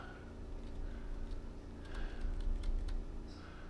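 Keys clack on a computer keyboard while a word is entered during an Unreal Engine-style HUD setup, a soft, uneven patter of taps close to the mic over a low background hum, with no voices.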